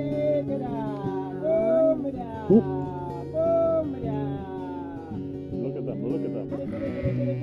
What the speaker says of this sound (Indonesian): Perhatikan domba-dombanya langsung mengangkat kepalanya dan menjawab